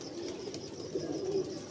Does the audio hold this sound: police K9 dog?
no